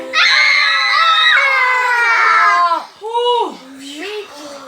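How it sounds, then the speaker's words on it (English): A child lets out a long, loud, sustained scream during a sung children's rowing song, then gives a few shorter vocal cries and yelps that trail off. "I just saw a taniwha and it made me scream."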